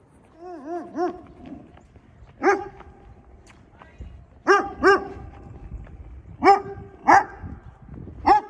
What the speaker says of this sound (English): that dog's got a shock collar on